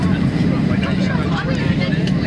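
From inside the cabin of a Boeing 757-300 airliner during a go-around, the engines give a loud, dense, steady roar, and voices talk over it.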